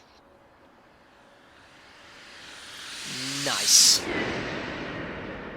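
A Boeing 737-200's jet engines, heard from outside in a flight simulator game, swell from a low hiss into a loud, close roar, with one brief spoken word near the peak.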